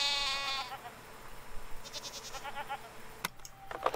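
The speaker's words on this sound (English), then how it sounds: "She's gonna record a goat." Goat bleating in a video game, a couple of wavering bleats near the start and again midway, with a sharp click and fainter bleat toward the end.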